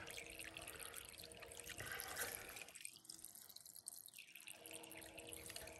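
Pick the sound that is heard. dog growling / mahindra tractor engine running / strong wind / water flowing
water flowing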